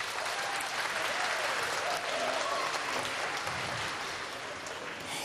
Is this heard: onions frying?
no